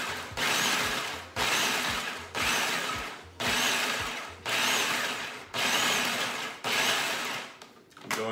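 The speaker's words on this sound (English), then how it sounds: "now I'm gonna turn on my food processor. I'm gonna pulse it at first" A food processor pulses graham crackers with melted butter in repeated bursts of about a second each, seven pulses in a steady rhythm, loud and close with a grinding, rattling texture, no voices.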